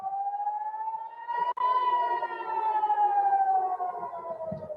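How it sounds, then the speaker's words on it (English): Air raid sirens wail over Tel Aviv, a long rising and slowly falling civil defense tone carrying across the city, steady and prominent with faint background noise beneath. "Those are the air raid sirens."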